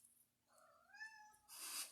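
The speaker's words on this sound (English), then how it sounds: "she just keeps meowing every time I talk" A pet cat lets out a couple of soft rising-and-falling meows close by in a quiet room, followed by a brief burst of hissy noise.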